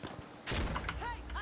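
A grenade is lobbed during a tactical shooter video game, with a heavy thump and burst of noise followed by short metallic chirps and clatter, the player's voice mixed in around it.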